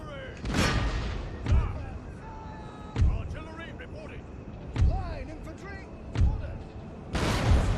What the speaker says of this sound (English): I think that's the target of most of the artillery.